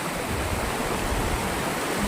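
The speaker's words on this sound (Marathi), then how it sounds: "खूप असं वेगाने पाणी आहे." Fast-flowing floodwater rushes past near a bridge, a dense, loud, continuous roar without breaks.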